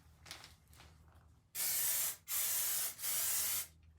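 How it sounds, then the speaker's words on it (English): Aerosol spray paint hissing out of a can in three loud, steady bursts with short pauses between them, preceded by quieter shop noise, while painting parts for a 1952 Ford diesel truck build. "Sprays out powerful."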